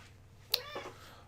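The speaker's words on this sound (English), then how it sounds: "Hello, small cat." A small cat gives a short, sharp meow followed by a softer second meow about a quarter second later, close by, over a quiet room background.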